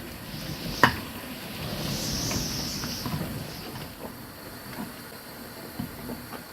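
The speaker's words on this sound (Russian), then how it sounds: "Не убавляя огня и не переставая мешать, проварю 2 минуты." Thick jam boiling on high heat while being stirred, a steady bubbling hiss with a sharp scrape or knock near the start and soft stirring sounds throughout.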